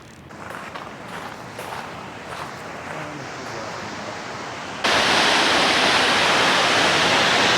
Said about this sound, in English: We're coming at this waterfall from the south.